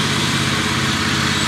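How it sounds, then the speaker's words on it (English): A loud, steady engine drone of a riding lawn mower chopping up leaves, running continuously, close by, with a broad whirring hiss over the motor. "Now we're doing a little mowing."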